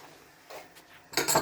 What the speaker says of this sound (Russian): сейчас накрою пока крышкой немножечко